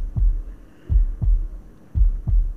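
A deep, muffled game heartbeat pulses in paired thumps, lub-dub, about once a second over a low hum, the warning for low health in the action game Grimvalor.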